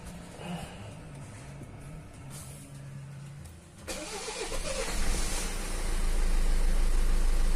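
A Hyundai Santa Fe diesel engine, smoking heavily and misfiring, cranks and catches, then runs with a rough, uneven idle that grows louder and steadier, with no talking.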